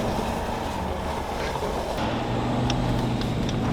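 A Land Rover Defender TD5 "beater truck" drives off road through a river, its diesel engine giving a steady loud droning rumble with water noise, no voices.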